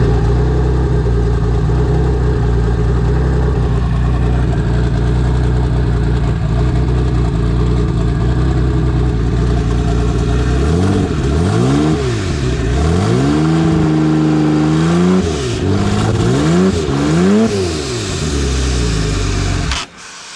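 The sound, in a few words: car engine being fired up and revved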